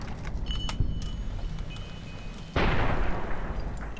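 In the video game Fallout New Vegas, a loud burst of gunfire suddenly erupts and keeps roaring for over a second after a quieter stretch with a few faint clicks.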